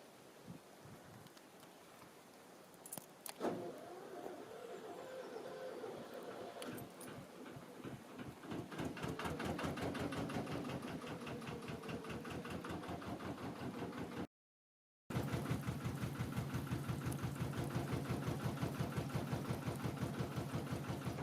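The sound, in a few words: narrowboat engine running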